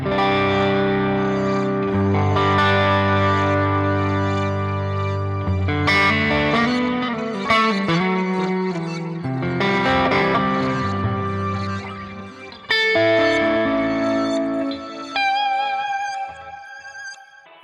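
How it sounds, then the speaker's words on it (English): Effected electric guitar phrases through an Ampero II preset, with dotted-eighth delay echoes, a wash of reverb, and warbling, glitchy textures swirling around the notes; no voices. "the delay is on the dotted 8 note, but it has these kind of glitchy, swirly things"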